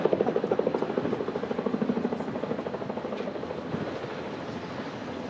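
Helicopter settling onto a landing pad at a holiday house, heard as a steady rhythmic rotor chop at moderate distance that slowly fades. No voices.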